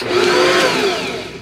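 A Bosch stand mixer whirs steadily while mixing oatmeal brown bread ingredients, a loud continuous motor hum with a rising and falling pitch, heard alone without talk.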